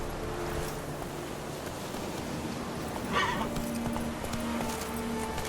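Roach, a horse in The Witcher 3: Wild Hunt, gives a clear whinny midway while hooves clop steadily against a constant outdoor ambience.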